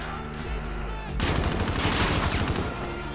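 Steady gunfire in Call of Duty: Warzone, a continuous stream of rapid shots that grows louder and denser about a third of the way in and then holds at a sustained rattle.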